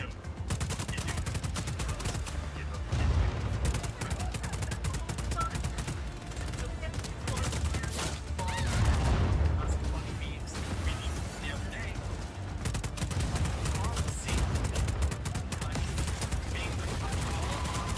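Sustained video game gunfire, with rapid bursts and repeated shots rattling steadily for the whole stretch, fairly loud and close. Talk breaks in over the shooting now and then.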